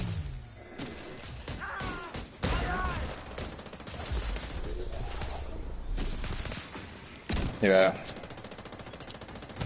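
Rapid turret gunfire in a video game bursts out in loud rattling volleys with crashing impacts, over game sound and a voice talking.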